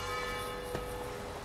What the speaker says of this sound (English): So anyway, you hear the church bells.